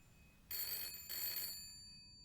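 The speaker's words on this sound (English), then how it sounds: "The phone finds itself ringing." A telephone bell rings in two bursts with a short gap, then fades into a lingering ring; bright and fairly close, no talk over it.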